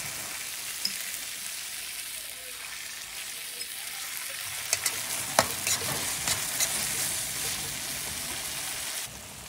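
Tomatoes and scrambled eggs fry in a pan with a steady, close sizzle, while a spoon stirs and scrapes through them in scattered clicks and taps over about ten seconds.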